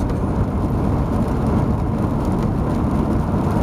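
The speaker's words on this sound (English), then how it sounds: "it's raining" Steady rain falling in Oregon, a dense continuous hiss and patter with a low rumble underneath, even and unbroken, with no voices.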